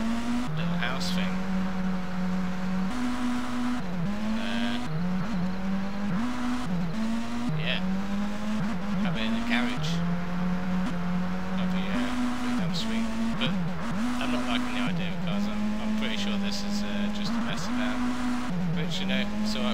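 A car driving in the survival game Rust, its engine holding a steady droning note that rises and dips as it shifts, continuous for the whole stretch, with a voice talking over it.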